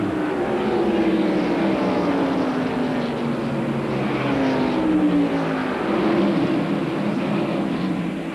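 NASCAR stock cars race at North Wilkesboro Speedway, their engines roaring past in a sustained, sweeping drone with rising and falling pitch as they pass, heard at moderate distance with no talk.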